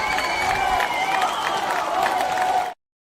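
An audience cheers and claps loudly and steadily at a show for close to three seconds, with shouts mixed in, before it cuts off abruptly.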